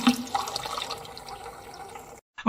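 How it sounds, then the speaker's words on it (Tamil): Water is splashed onto a sleeping man as a radio drama sound effect: a couple of seconds of pouring, sloshing liquid, then a brief gap and a sudden loud burst at the end. "தண்ணிய சரி தெளிச்சு பார்ப்பேன்"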